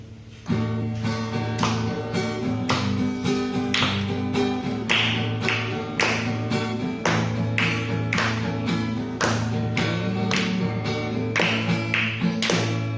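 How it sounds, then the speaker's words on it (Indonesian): A church congregation at an Ascension Day service claps in a steady, even beat along to an upbeat hymn, the sharp hand claps repeating regularly over the instruments and singing for the whole stretch. "Kita tepuk tangan"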